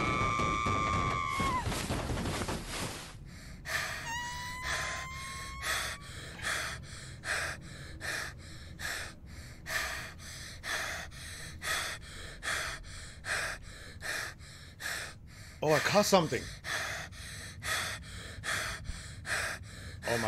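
A creature in the horror game Find Yourself breathes heavily in a slow, regular rhythm of deep rasping gasps, close and prominent, after a short burst of noise and a brief spoken exclamation near the start.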